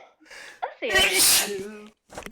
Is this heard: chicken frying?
no